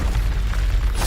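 The Incendio fire spell is cast in Hogwarts Legacy, giving a short, loud, deep whooshing boom that swells and bursts in about a second.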